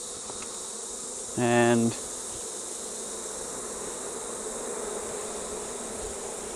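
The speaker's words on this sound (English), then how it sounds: "shaking the bees off again" Honeybees buzzing as they are shaken off hive frames on a hot day, a dense close hum with a brief louder burst, and a voice speaks briefly.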